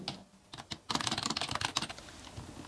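Rapid clicking keystrokes on a computer keyboard, sparse at first then a dense quick burst of typing, close and fairly quiet, no talking.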